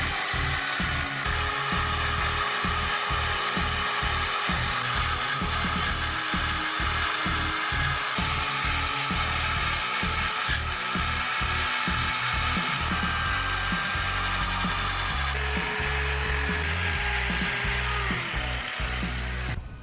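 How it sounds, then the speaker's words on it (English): A drill-driven wire brush scrubs the aluminium casing of a Ducati Hypermotard motorcycle engine, a steady whirring grind with rhythmic scraping pulses as the brush is worked back and forth, loud and close throughout. "So first pass of the drill on the back of the engine"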